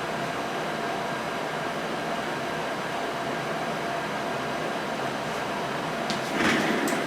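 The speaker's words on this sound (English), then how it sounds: "So now the printer should come out and look for the crop marks, the registration marks" A print-and-cut printer runs with a steady mechanical whir as it moves to find crop and registration marks, holding an even level before a brief louder clatter near the end.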